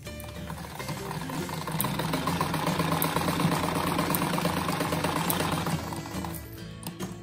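A sewing machine stitches a pillow with a steady, close mechanical whirr that swells slightly in the middle and eases off near the end.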